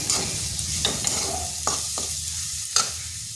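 Chili powder, black pepper and spices are stirred through a sizzling pan, a steady fry hiss punctuated by a few sharp scrapes and taps of the spoon, close and fairly loud.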